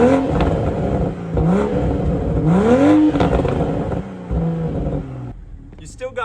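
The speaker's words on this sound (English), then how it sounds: "listen to the pops and bangs of a 2021 and up Toyota Supra" A stock-exhaust 2021 Toyota Supra revs up and down several times with a loud, rising engine drone. Sharp crackling pops follow as the engine settles near the end.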